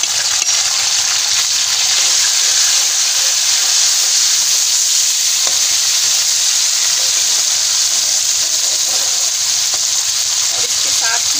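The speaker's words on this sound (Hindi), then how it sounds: "अब इसके साथ ही हम इसमें ये टमाटर ऐड कर देंगे।" Tomatoes and spices hit frying onions in a pan for methi aloo, producing a loud, continuous bright sizzle and hiss that stays steady throughout, close up, with faint stirring under it.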